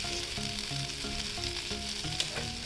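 Oysters frying in a pan over a gentle flame in a Konkan kitchen for oyster kalva: a steady soft sizzle with faint rhythmic tones underneath and a small clink near the end, quiet and with no voices.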